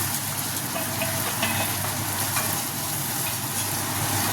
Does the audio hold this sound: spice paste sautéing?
yes